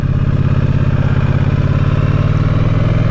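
A 2019 Triumph Bonneville T100 Black runs while riding, with its engine giving a loud, steady low throb and rapid even firing pulses throughout, and no talk.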